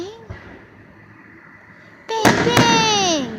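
Firework explosions at a backyard-style display: two sharp loud bangs close together, the second followed by a rising whistle and crackling tail, over quiet ambient noise.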